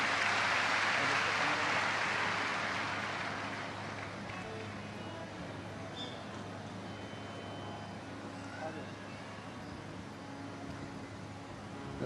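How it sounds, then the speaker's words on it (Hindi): Loud applause from a large audience at a live Shiv Mahapuran katha gathering, a dense wash of clapping in the first few seconds that gradually fades into steady background hum and murmur. "जोरदार तालियां।"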